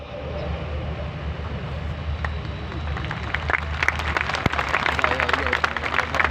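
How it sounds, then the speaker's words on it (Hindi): An audience applauds during an Islamic lecture: a broad wash of clapping that swells and grows denser toward the end, heard alone without speech. "आपने सुन लिए, आपने ताली बजा दिए।"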